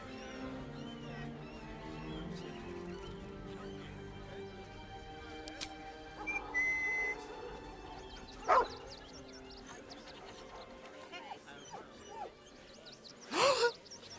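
A dog in the video game Baldur's Gate 3 gives two short, sharp barks, spaced apart over soft background music and ambient game sound.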